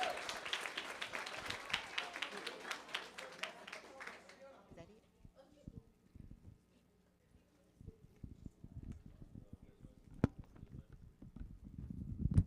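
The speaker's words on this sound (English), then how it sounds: "Y'all give a big round of applause for Kristen McCullough." An audience at a school district board meeting bursts into applause, a dense wash of clapping for about four seconds that quickly dies away into a quiet room with scattered thumps and shuffling.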